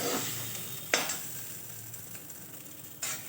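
Cauliflower pieces frying in a pan, a soft ongoing sizzle broken by a few sharp scraping stirs of a spatula, close but fairly quiet, with no voices.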